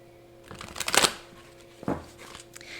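A tarot card drawn from a deck makes a brief shuffling rustle of cards followed by a quieter snap, close and alone.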